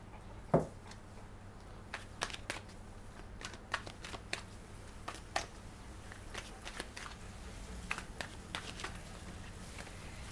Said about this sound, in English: So when I'm shuffling the cards,